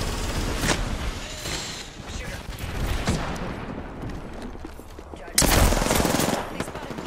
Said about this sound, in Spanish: Le pegué escopetazo a uno.